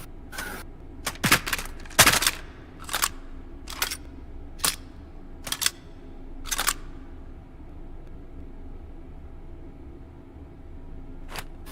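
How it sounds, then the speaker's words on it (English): Sharp metallic clacks from a firearm's bolt being released and snapping forward, a dozen or so separate hits spaced unevenly over several seconds, close and crisp against a quiet room. "I guess fire it so that the bolt drops."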